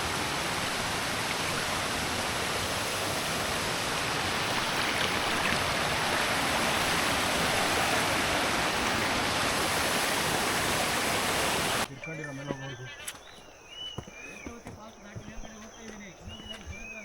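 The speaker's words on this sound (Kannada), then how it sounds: "ಇಲ್ಲೊಂದು ನಿಮಗೆ ನದಿ ಸಿಗುತ್ತೆ" The Netravati river rushes past in a loud, steady broadband roar on a trek in Karnataka, cutting off abruptly partway, after which quieter sounds and voices follow.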